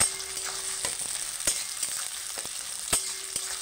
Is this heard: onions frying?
yes